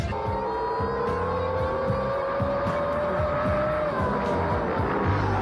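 Racing boats roar past at speed in a boat racing event, a loud continuous engine drone with a rising whine and repeated pulsing throb, no talk over it.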